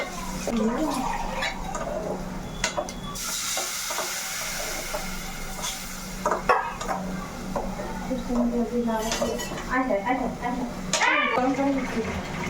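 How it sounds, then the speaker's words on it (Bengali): Spice masala with salt being stirred and sautéed in a pan, a steady sizzle with scraping stirs throughout, while people talk nearby over it. "এখন আমি এটা ভালোভাবে কষিয়ে নেবো মশলাটা"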